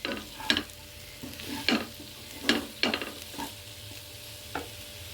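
Ginger, green chili and potato fry being stirred in a pan, a soft sizzle under a series of sharp scraping strokes, about six of them at uneven intervals, close by with no talking.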